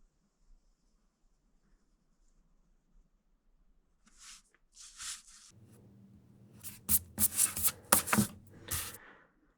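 Pencil sketching the rough outline of a wallet pocket pattern on paper, starting faint and growing into brisk, close scratchy strokes in quick bursts toward the end.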